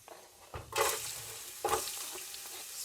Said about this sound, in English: So we're going to saute these up a little bit.